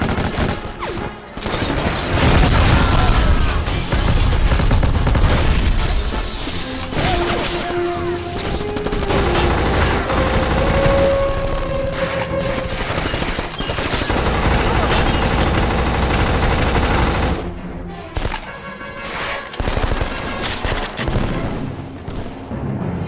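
Sustained heavy gunfire from automatic weapons rattles loud and dense for most of the stretch in the 2006 shooter game Black, with occasional explosive booms and brief pauses before it tails off near the end.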